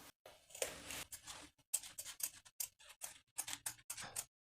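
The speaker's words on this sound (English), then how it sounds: "slash through the center of the welt through the back pant material only" Scissors cutting through back pant fabric along a welt, a quiet close series of crisp snips and slicing strokes in an irregular rhythm with short pauses.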